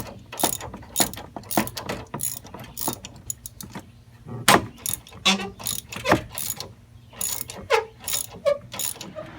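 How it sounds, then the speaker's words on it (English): Ratchet clicking as extensions and a universal joint turn 18mm bolts during a Chevrolet Trailblazer front end rebuild, sounding as bursts of close, sharp metallic ratcheting strokes with short pauses between them, no talking. "I'm just using my extensions and a universal joint to be able to get to those 2 bolts"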